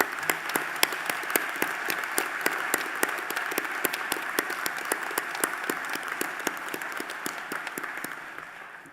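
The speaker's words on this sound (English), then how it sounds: "I think we should give all of my colleagues at the university a round of applause." Sustained applause from a graduation ceremony audience at Teesside University, made of many dense, even claps that continue steadily and fade slightly toward the end, with no talking over them.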